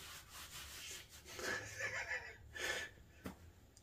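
Valve being lapped by hand into its seat on a 1978 Honda CB750 Turbo engine, using a light dab of grinding compound; soft repeated rubbing and gritty scraping strokes, close and fairly quiet, with no talk.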